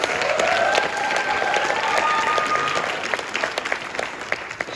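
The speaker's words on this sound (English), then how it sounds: "We'll give her a round of applause." Applause from the audience at a summer arts camp in August 2021 for the accompanist, a lively burst of many hands clapping close by, with a brief whistle early on, thinning out toward the end.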